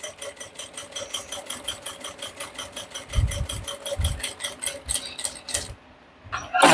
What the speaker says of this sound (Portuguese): Agora eu vou fazer uma costura de beiradinha aqui, ó.